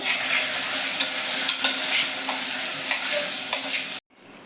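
Potato curry being stirred in a pan after salt and jaggery go in, a loud continuous sizzle with scraping stir strokes that stop abruptly near the end.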